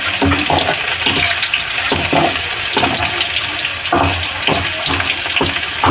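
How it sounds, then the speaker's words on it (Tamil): Onions sauté in a pan for a Tamil-style egg fry, giving a steady, close sizzle broken by regular rhythmic scrapes of a spatula stirring. "வெங்காயத்தை நல்லா வதக்கிக்கணும்"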